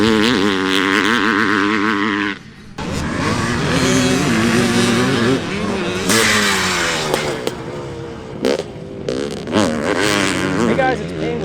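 A 1984 Honda CR500 air-cooled two-stroke dirt bike engine blats and revs loudly up close, rising and falling with throttle blips and a brief dip, raw and buzzy throughout.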